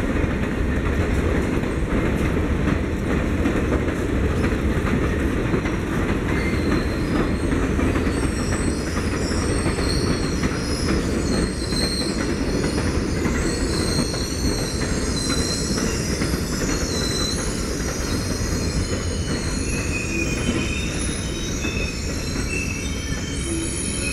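The Southwest Chief passenger train, hauled by AEM7 electric locomotives with old baggage cars, rolls past in Kansas City, a loud, sustained roar of wheels with high squealing and clickety-clack, close and continuous with no voices.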